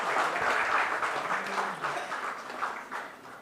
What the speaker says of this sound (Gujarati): આ તમામ મહાનુભાવો માટે એકવાર જોરદાર તાળીઓનો ગડગડાટ થઈ જાય.